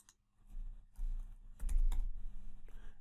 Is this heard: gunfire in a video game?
no